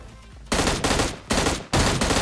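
An M16 rifle fires in burst mode in a video game, with three loud, close bursts of rapid shots separated by brief pauses and no talking.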